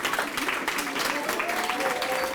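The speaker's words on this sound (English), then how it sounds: "to keep the applause coming" Audience applause for teachers at a middle school Black History Month presentation, steady clapping throughout under a voice speaking over it.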